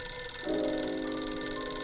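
In the video game Blues and Bullets, a telephone begins ringing about halfway in, a steady electronic trill above a flat background hum, with no one speaking.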